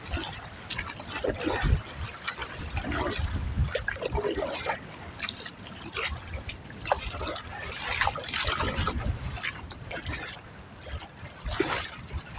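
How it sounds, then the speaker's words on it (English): Lake water sloshes and splashes against a solo canoe in cold, windy weather, with irregular slaps and trickles continuing steadily and close by. "Them some decent sized waves."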